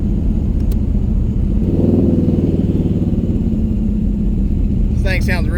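A "Hotbox" Corvette engine rumbles loud and close as it's downshifted, the revs swelling in a throaty burst before settling back into a steady deep drone.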